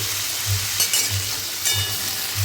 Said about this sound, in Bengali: আগের থেকে দুটো আলুকে ডুমো ডুমো করে কেটে নিয়েছিলাম সেই আলুগুলোকে তেলের মধ্যে ছেড়ে দিচ্ছি